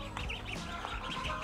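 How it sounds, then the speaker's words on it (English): Ducklings on a Canadian summer homestead peep in a steady stream of thin, high chirps, close and continuous, with no talking over them. "All of you say hi to the ducklings"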